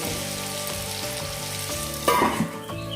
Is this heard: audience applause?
no